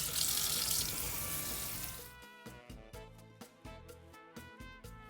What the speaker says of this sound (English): Some cold water over them and just give them a little washing.